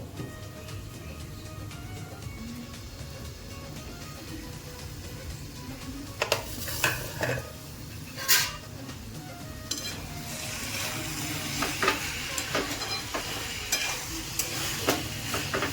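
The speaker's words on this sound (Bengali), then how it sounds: "এইভাবে নাড়াচাড়া করে নিতে হবে। আবারও ঢাকনা দিয়ে কষতে থাকবো।" Minced chicken kheema fried and stirred in a covered pan, a steady low sizzle under repeated scraping and clattering stirs, with louder bursts of spatula knocks against the pan.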